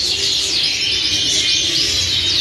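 Several male canaries chirp in a dense, continuous stream of bright, high trilling song that stays loud and steady throughout, with no talking.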